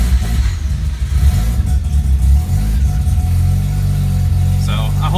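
A small car with an uncatalysed engine runs at a steady raised idle during cold warm-up with the throttle held slightly open, a close low rumble with someone talking over it.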